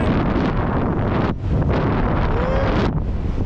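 Strong 40 km/h wind buffets an outdoor microphone during drone fishing, a loud, continuous broadband roar with one brief lull near the middle.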